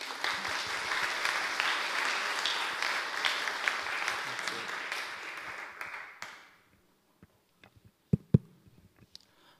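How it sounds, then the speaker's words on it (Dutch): An audience at an evening event applauds to welcome a speaker, warm steady clapping for about six seconds that stops abruptly, followed by a few scattered claps and knocks in near silence. "En warm applaus voor hem, alsjeblieft."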